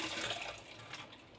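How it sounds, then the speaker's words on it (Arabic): Water running while a tray is washed with a soapy sponge, a brief steady splashing and hiss of flowing water. "ناخذ هاد الحفه ديال الصابون ونغسلها"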